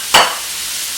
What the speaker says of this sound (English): As soon as I get the hamburger meat chopped up in here.